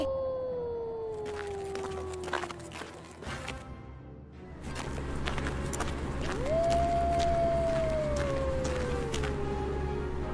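A wolf in an animated story lets out two long, loud howls, each a sustained falling wail with a rise at the start of the second, over a dense backdrop of scurrying effects and rumble.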